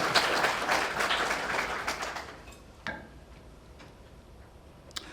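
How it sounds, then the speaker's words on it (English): Applause from a small audience at a medical laboratory staff event, dense patter of clapping that thins out after a couple of seconds into a few scattered, isolated claps. "I do want to give you guys a round of applause for everything you continue to do for us."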